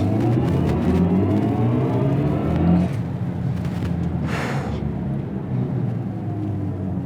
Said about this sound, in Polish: w tym momencie możemy uaktywnić system Launch Control i sprawdzić, jak samochód przyspiesza